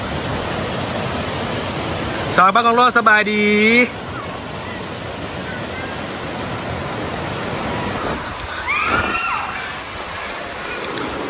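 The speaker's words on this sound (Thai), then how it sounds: "นี่คือสายน้ำลำธาร ไหลออกจากถ้ำครับ น้ำใสขนาดเลยครับ เป็นแก่งน้ำเลยครับ" A stream of clear water flowing out of a cave and over rapids makes a steady, broad rushing roar close by. A voice talks briefly over it twice.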